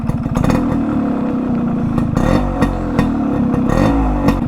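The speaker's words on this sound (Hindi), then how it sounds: "अभी जो मेरा बाइक में चैम्बर एडजस्ट है, देख सकते हो गाड़ी का साउंड कैसा लग रहा है" Yamaha RX100 motorcycle with a chamber exhaust idling loudly up close, its two-stroke putter broken by several sharp throttle blips and revs.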